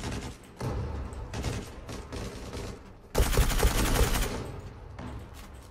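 An M4 rifle fires in short tapped bursts in the video game Zula, loud close volleys with brief gaps between them and a louder cluster of shots near the middle, no voices.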